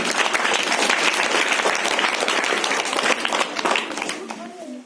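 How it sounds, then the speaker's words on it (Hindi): Loud, dense clapping from a school assembly audience after a children's speech, many hands pattering together at full strength before tapering slightly near the end. "जोरदार ताली बजाओ"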